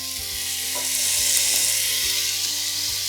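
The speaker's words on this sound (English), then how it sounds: "saute until the veggies are cooked" Carrots, zucchini, peas and peppers sauteing with quinoa in a hot pan, a steady bright sizzle with a few soft stirring knocks and scrapes, close and continuous with no talk.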